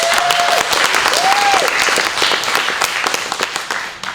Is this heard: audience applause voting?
yes